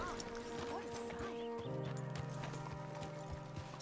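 Horse hooves clip-clop in Red Dead Redemption II, a quick run of soft hoofbeats under in-game music and ambience, fairly faint.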